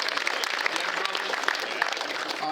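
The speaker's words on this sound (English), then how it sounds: "They deserve a big round of applause." Applause for the Din brothers at a baseball hall of fame induction ceremony, steady moderate clapping from the audience across the whole moment, with a voice faintly mixed in.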